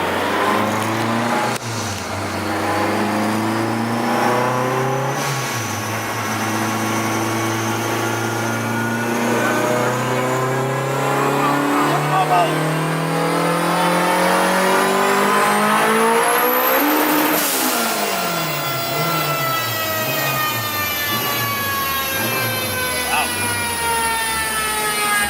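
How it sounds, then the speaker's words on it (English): A car pulls hard in fourth gear, its engine note climbing steadily and loudly over many seconds, then dropping and wavering as the revs fall, with tire spin mentioned and people talking over the engine. "4th gear pull, son."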